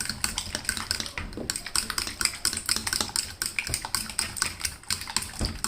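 Rapid, steady tapping of a whisk or fork beating eggs with seasoning, soy sauce and sliced chilies in a bowl for a Thai basil omelette, close and busy, with no talking.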